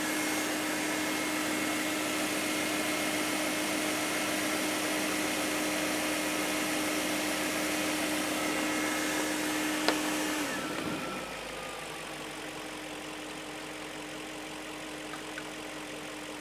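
A BMW M62TU V8 idles steadily with a smooth, even hum, then the tone drops and settles at a lower level partway through, with a faint click near the change; no talking.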